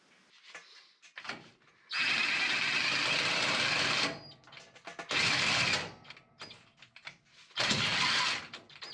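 A power tool cuts through a water-filled pipe on a water heater in three loud, sustained buzzing bursts of about two seconds each, separated by quieter clatter and handling noises.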